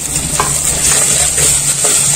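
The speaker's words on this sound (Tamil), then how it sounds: "இந்த வெங்காயம் வந்து அந்த எண்ணெயிலேயே நல்லா வதங்கிட்டு பொன்னிறமா ஆற வரைக்கும் நல்லா வதக்கிக்கலாம்." Onions and tomatoes sizzle steadily in hot oil, with a few soft scrapes of stirring, for a fish curry.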